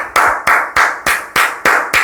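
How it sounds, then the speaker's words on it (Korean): Bare hands clap loudly and close in a classroom, about seven sharp, evenly spaced claps at a brisk steady rhythm, with no talking. "쌤 박수 소리 크지 않아?"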